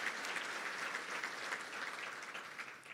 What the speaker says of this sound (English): Let's give the school board a round of applause.